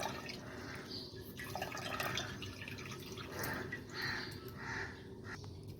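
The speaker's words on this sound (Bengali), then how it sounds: "ছাকার কাপড়ে আমি ভালো করে জুসটাকে ছেঁকে নেব।" Beet, carrot, tomato and cucumber juice being strained through a cloth, a soft steady trickle and dripping of liquid close by, quiet and continuous with faint background sounds.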